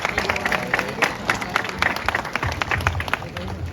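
Indoor crowd applause at a 2023 car show awards, a dense burst of many hands clapping at steady loudness, with faint murmuring voices mixed in.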